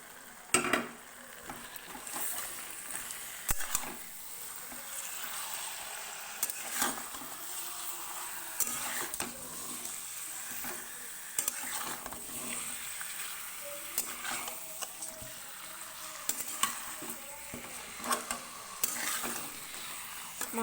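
Chicken pieces sizzle and fry in a spiced masala while a utensil stirs them in the pan, giving repeated scraping strokes over a steady hiss. The sound is close, and no one speaks.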